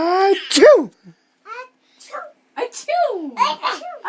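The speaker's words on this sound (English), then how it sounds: "You have to sneeze." A young child sneezes loudly and close to the microphone, a sharp burst followed by babbling and playful chatter from the child and an adult.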